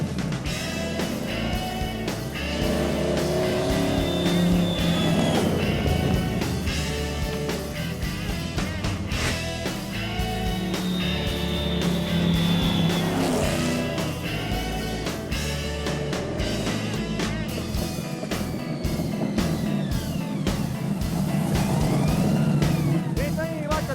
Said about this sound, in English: 800 horsepower will come roaring out through the custom Cherrybomb exhaust and side pipes